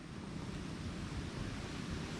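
Strong typhoon wind roars steadily across a farm field in a broad, rushing wash, gusting against the microphone with no voices.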